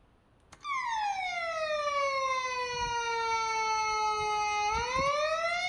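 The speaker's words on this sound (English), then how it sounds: "The circuit is designed to produce a loud alarm sound similar to a police siren" A loud electronic siren from a DIY wireless fall alarm wails continuously like a police siren, sweeping slowly in pitch as a steady rising-and-falling tone, close and alone.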